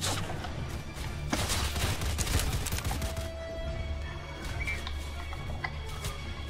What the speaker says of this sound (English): There's like a machine gun up there.